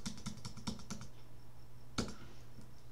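Computer keyboard keys clicking in a quick burst of typing, then a single sharper backspace press after a pause, close and fairly quiet over a steady low hum, with no talking.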